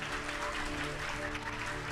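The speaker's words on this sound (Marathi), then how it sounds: "जोरात येशूंच्या नावात टाळी वाजवा" Church congregation clapping in praise of Jesus: a dense, continuous wash of applause at moderate volume, with a steady hum and faint voices mixed underneath.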